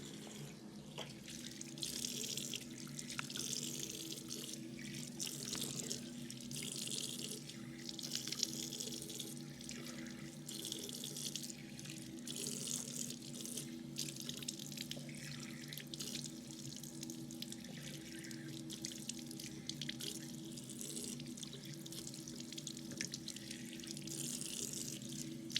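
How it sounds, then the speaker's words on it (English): Water runs steadily from a bathroom tap as a face is rinsed, a constant soft hiss with small splashes and drips, fairly quiet and with no voices. "I'm just going to go in there and rinse"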